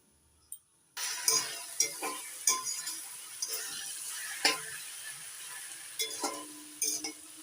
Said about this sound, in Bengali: নাড়াচাড়া করে নিয়েছি, আবারও 2 মিনিট ঢাকা দিয়ে রান্না করে নিচ্ছি।